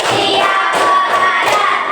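A classroom of students claps together in unison during a teacher-led clapping routine, producing a dense, steady run of loud, close, overlapping hand claps with slight surges, and no voices.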